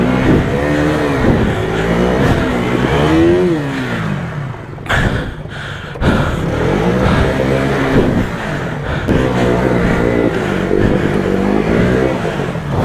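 Royal Enfield Bullet motorcycle crossing a river, its engine loud and close, revving and labouring with rising and falling pitch and a brief dip midway.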